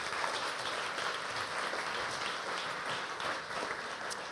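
A conference audience claps for a speaker being welcomed onto the stage, steady dense applause that stays fairly loud and even for the whole stretch, with no voices over it.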